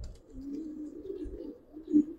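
Giribaz colouring pigeons cooing close by, a few soft, low, rolling coos in a short burst with one louder coo near the end, no talking.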